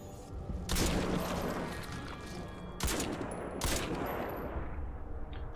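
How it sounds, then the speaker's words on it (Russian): Sniper rifle fire in the video game Crysis 2: two sharp, loud shots a couple of seconds apart, each with a crashing echoing tail, over a dense steady game background of noise and effects. "Сразу чувствуется мощь снайперской винтовки"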